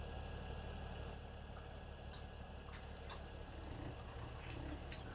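A tractor engine idles in the Farming Simulator 17 video game, a steady low rumbling drone that holds constant throughout, with faint ticking clicks on top and no voices.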